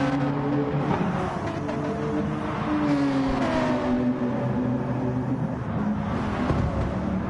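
Race cars, including a BMW, roar around a track in a continuous loud engine drone with shifting pitch as they run close together.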